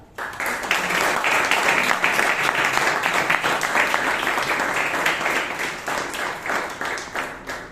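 Enthusiastic audience applause at a Toastmasters club meeting in Bangalore, welcoming the general evaluator; steady, full clapping from many hands lasting throughout, fading slightly toward the close.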